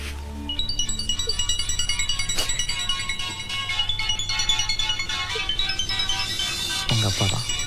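A mobile phone rings with a repeating electronic melody, loud and close, playing steadily for several seconds before a rustling sound at the end.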